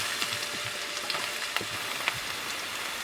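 Chopped onion fries in a mix of butter and oil, giving a steady, even sizzle with scattered soft pops and crackles throughout, close and moderately loud with no talking.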